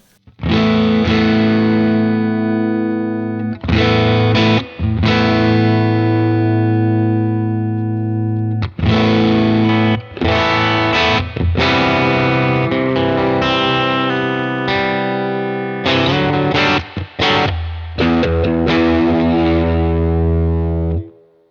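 Electric guitar played through a UAFX Dream '65 Reverb amp pedal with drive dialed in, giving distorted sustained chords and notes with heavy reverb tails and brief breaks between phrases, no speech.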